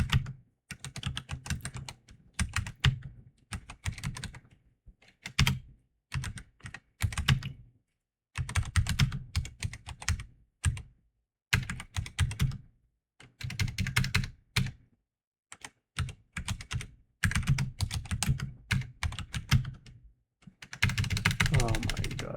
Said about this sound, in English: I swear I'm not this bad at typing.